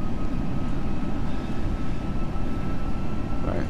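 A British Airways Airbus A321 on landing approach into Innsbruck in the Prepar3D flight simulator gives off a steady, loud, broadband engine and airflow roar that holds even throughout, with no voices.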